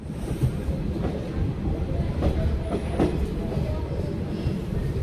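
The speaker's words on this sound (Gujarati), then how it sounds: "આપણી ટ્રેન આવી ગઈ છે" A passenger train rolls along rails toward Abu Road railway station in Rajasthan, a steady loud rumble of wheels and carriages with faint clattering and a few brief higher squeals.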